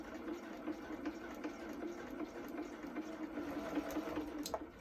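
A sewing machine stitches an exposed zip, giving a steady, fairly faint mechanical whir with a soft regular stitching rhythm throughout, with no talking.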